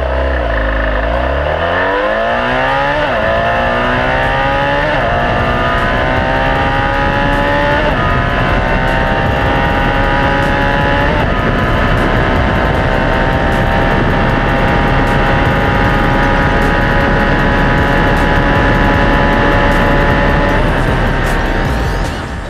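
A BMW F800 motorcycle with a single exhaust pipe roars loud and close, its pitch climbing repeatedly as it accelerates hard through the gears, alone without speech.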